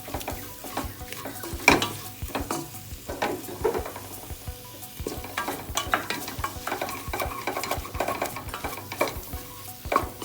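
Coriander and mint leaves are stirred into chicken biryani with chopped tomato frying in a pressure cooker, giving a steady sizzle broken by repeated scrapes and clinks of a utensil against the pot.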